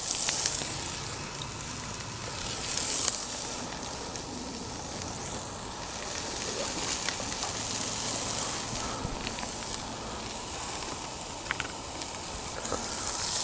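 Tasso sizzles in a pot over a hot Solo Stove wood fire, a steady soft hiss and crackle running throughout with occasional sharper pops, fairly quiet.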